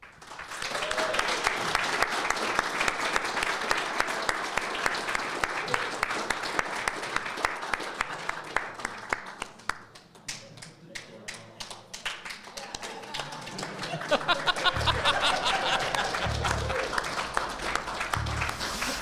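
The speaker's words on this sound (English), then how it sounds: "That is the correct length of the clapping." Sustained audience applause in Las Vegas: dense, steady clapping from a crowd that thins briefly midway, then swells again, with voices talking over it near the end.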